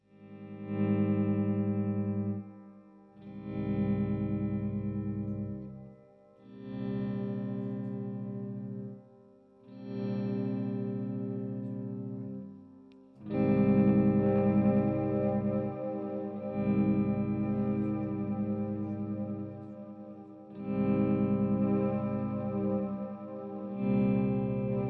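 Electric guitar played through a post-rock/ambient pedalboard with reverb, sustained chords swelling in and fading in separate phrases, rich and echoing, played alone with no talk.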